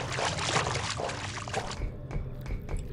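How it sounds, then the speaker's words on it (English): Water splashing and sloshing as a character swims in the video game F.E.A.R., a dense continuous wash that thins out partway through into sparse drips, no speech over it. "the water sounds stop immediately when you get out"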